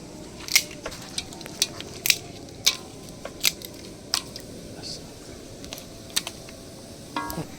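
Large cinnamon sticks snapped by hand while cooking a Bengali coriander chicken roast, a series of crisp, dry cracks spaced irregularly, close and sharp against a quiet background.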